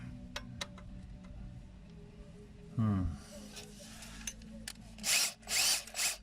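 Power drill spinning a hardened burr bit while working on the front right wheel sensor of a 2006 Jetta; a short whine mid-clip then several loud bursts of grinding near the end, with scattered clicks and some talk.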